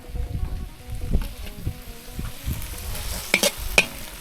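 Eel sizzles and crackles in hot oil for a Thai spicy stir-fry, with a steady frying hiss under clattering utensil stirs and a few sharp clicks near the end; no voices.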